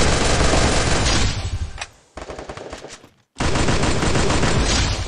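Rapid automatic gunfire from the Free Fire mobile shooter game, loud and dense bursts that break off twice with short gaps before resuming at full intensity, close and unbroken by speech.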